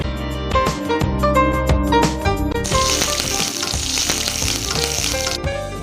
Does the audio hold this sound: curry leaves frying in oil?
yes